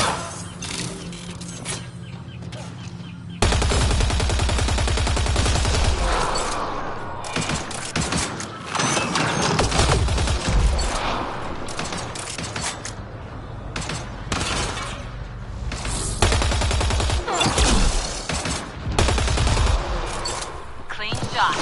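Gunfire in Mass Effect Andromeda, with loud rapid bursts and sharp shots coming in clusters and short gaps between them. Voices are heard between the volleys.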